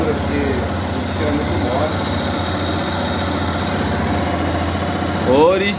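A Yamaha Fazer 250 motorcycle idles with a steady, even engine rumble and a persistent mechanical noise from the engine, close and continuous throughout, with a brief swell near the end.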